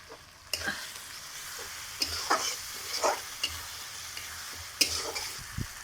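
Spices being sautéed in a pan for jackfruit kofta curry, with a soft steady sizzle beneath intermittent scraping of a spatula and the occasional clink, moderately quiet and close, with no voices.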